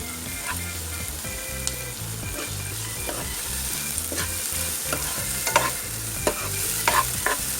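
Tomatoes frying in a pan for a Marathi stuffed capsicum dish, a steady close sizzle broken by repeated scraping stirs, with no voices over it.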